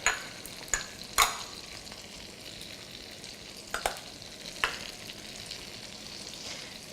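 Chopped peppers and celery cooking down in a pan, a low quiet sizzle broken by a few sharp scrapes and clinks of stirring spaced several seconds apart.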